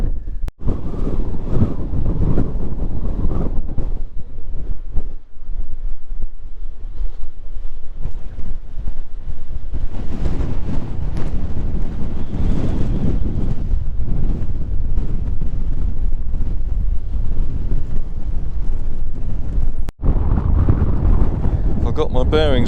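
Strong wind buffets the microphone on an exposed hilltop near Alton Barnes, a loud continuous low roar with gusty surges throughout and no clear speech.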